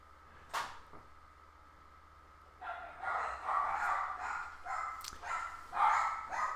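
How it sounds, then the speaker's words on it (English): Several dogs bark in bursts from about three seconds on, somewhat distant and in the background, after a quieter opening with a couple of brief knocks. "the dogs are awake, and you guys can probably hear it in the background"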